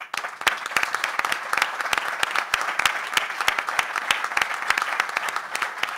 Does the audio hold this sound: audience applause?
yes